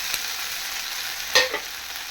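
Crumbled idli is stirred into sautéed onions in a frying pan, giving a steady, moderate sizzle with a brief scrape of the spoon partway through.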